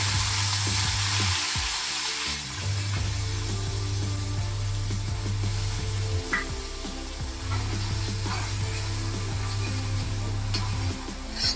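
Garlic sizzling and frying in hot oil with goat brain for bheja fry, a steady close crackle with occasional stirring clatter and a low hum running underneath.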